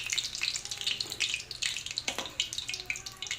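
Calamari in breading fries in hot oil with crackling, popping sizzle and scattered sharp bursts, fairly quiet and close, with no voices.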